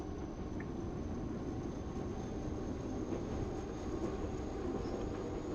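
Continuous rumble of a London Underground Northern Line train running in the Open BVE train simulator game, a steady loud low drone with a faint high whine, no talk.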